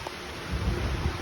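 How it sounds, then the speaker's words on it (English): Heavy rain pours in a village during a thunderstorm, a dense steady roar with a low rumble of thunder swelling in the middle, no voices. "It is raining like cats and dogs in my village."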